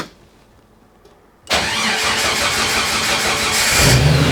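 A Jeep engine starting by push button with its transmission in neutral: a quiet lull, then a sudden loud catch at about 1.5 seconds that settles into a steady, close idle.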